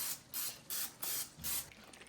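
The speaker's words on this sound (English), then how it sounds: "I'm going to spray it with a little bit of vegetable oil." Short bursts of cooking spray from an aerosol can of vegetable oil, misted over a pan in a home kitchen: four separate hissing puffs of about a quarter second each, close and fairly quiet, with no talking.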